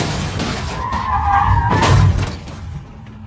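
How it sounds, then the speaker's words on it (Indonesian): In a film scene, a car skids with a rising tire screech, then slams into another car with a loud crunching impact and breaking glass, fading into quieter rumble afterward. "sebuah mobil dengan sengaja menabrak mereka"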